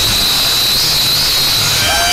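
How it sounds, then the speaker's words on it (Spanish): A loud, steady high-pitched whine and hiss of a flying drone, close by, with a rushing noise underneath. "El dron."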